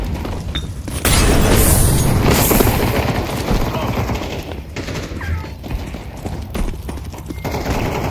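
Grenade blasts and gunfire in Counter-Strike 2 make a loud, dense barrage of booms and rattling shots that swells after the first second, with voices talking over the din.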